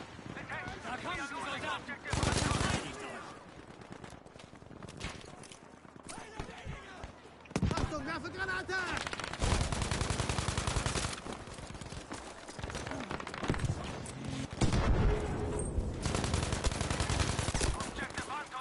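Sustained automatic gunfire in a video game unloads a whole magazine in rapid bursts, with loud, dense cracks that recur through most of the stretch and someone talking over parts of it.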